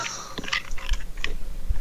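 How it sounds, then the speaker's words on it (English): Someone chewing on ice, with sharp crunching bites in irregular succession, close and fairly quiet with light background murmur. "Sounds like someone's chewing on ice."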